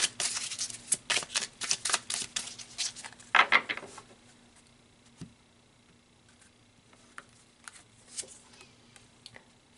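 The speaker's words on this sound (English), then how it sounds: "let's pull some tarot" Tarot cards are shuffled in a quick burst of crisp riffles and flicks, then sparse soft taps and card snaps follow, close and clear with no talking.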